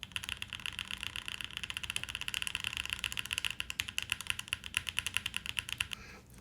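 Fast typing on a mechanical keyboard with an aluminum plate, a dense run of crisp clicky keystrokes close up and alone, steady rhythm for about six seconds before stopping.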